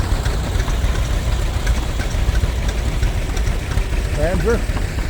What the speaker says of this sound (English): Couple garden tractors here.